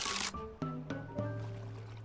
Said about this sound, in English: Why are the shutter sounds getting more chaotic?